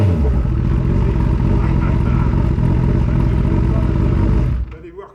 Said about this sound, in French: Je vais regarder si elle démarre.